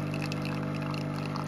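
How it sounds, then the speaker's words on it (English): Coffee trickling from a home drip machine, a continuous close watery pour with a steady pump-like hum underneath, no voices. "Like I always did when the coffee starts dripping."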